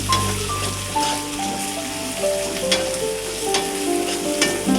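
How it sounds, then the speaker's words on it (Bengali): Small shrimp and garlic paste fry in hot oil with a steady close sizzle, broken by a few scraping stirs of a spoon against the pan; faint tonal hums run underneath. "তারপর একটু নেড়ে ছেড়ে দিলাম তেলে একটু ভেজে"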